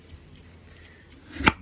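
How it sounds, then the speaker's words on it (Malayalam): A knife chops through peeled kiwi fruit, with one sharp, close cut near the end after quiet handling sounds. "കിവിയുടെ തൊലിയൊക്കെ ചെത്തി നമ്മൾ കണ്ട അരിഞ്ഞോണ്ടിരിക്കുകയാണ്"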